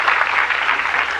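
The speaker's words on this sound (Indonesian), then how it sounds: "Berikan tepuk tangan yang berikan buat Tuhan." Church congregation applauding together, a steady dense wash of many hands clapping at close range, sustained without a break.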